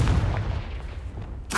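A Confringo spell blast in Hogwarts Legacy, a heavy booming explosion that fades out over about a second and is followed by another sharp burst.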